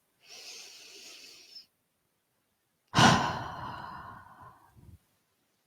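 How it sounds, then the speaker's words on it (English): One slow, deep breath during a relaxation exercise: a soft airy inhale through the nose, a brief pause, then a louder, fuller sighing exhale through the mouth that trails off, close to the microphone with no talking. "And taking a nice, lovely deep breath."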